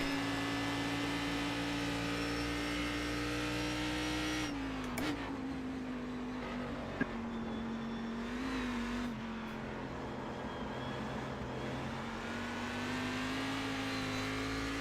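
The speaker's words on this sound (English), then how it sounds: "That rev limit is way up there for an engine like this that has really a good bit of torque" A Cadillac CTS-V.R race car engine in iRacing at Motegi holds a steady high-revving drone throughout, with a brief shift-like dip partway and a continuous whine, with no voices.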